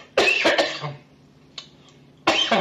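A few harsh coughs in a quick cluster, then a quiet pause with a faint click, followed by another sharp cough close by.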